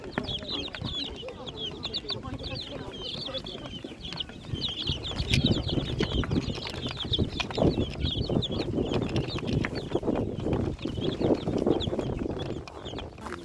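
At a busy animal market, chickens, among them a Lavender Araucana rooster for sale, cluck and squawk again and again near at hand, mixed with crowd murmur and people talking.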